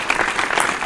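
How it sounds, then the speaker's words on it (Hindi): An audience at a Hindi poetry gathering for Parakram Diwas and Republic Day claps to welcome a poet, a brief loud burst of dense applause. "जोरदार ताली से स्वागत करिए आप श्री"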